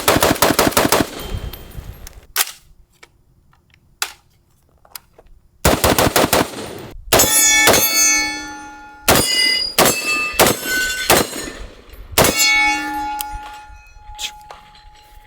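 A SIG SPEAR and an FN SCAR H .308 rifle, both fired with stocks folded, let off loud, close shots in rapid bursts and single reports, with metallic clangs and pings from casings and gear between strings of fire.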